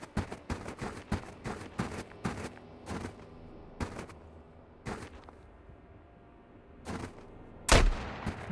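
Gunfire in Road to Vostok: a rapid string of sharp shots, then slower single reports spaced about a second apart, ending in one heavier, louder blast, all close and without speech.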